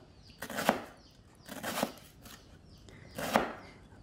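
Three separate knife chops slicing lemongrass stalks on a cutting board, spaced unevenly, each a crisp thud with a slight crunch, fairly quiet and close.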